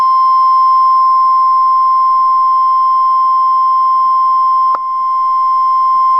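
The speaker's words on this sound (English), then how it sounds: "So here I'll again play the sinusoid." A steady, pure electronic sine tone with added distortion holds for six seconds with faint harmonic buzz, broken once by a brief click near the end.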